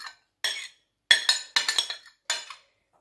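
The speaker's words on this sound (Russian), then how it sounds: "Мы высыпаем нашу чечевицу в салатничку вареную." Cooked lentils tipped from a container into a salad bowl, a few short, bright clinks and scrapes of a utensil against the dish in separate bursts, close and quiet, with no talk.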